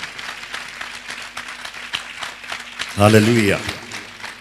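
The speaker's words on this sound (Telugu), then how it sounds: "చప్పట్లు కొడతాం" An audience at a church memorial gathering claps steadily, a dense patter of many hands that runs throughout, with a voice calling out briefly near the end.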